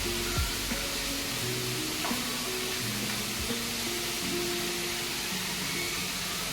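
Cauliflower pakoras frying in a pan of oil give a continuous, dense sizzling hiss with faint tonal background sounds running underneath.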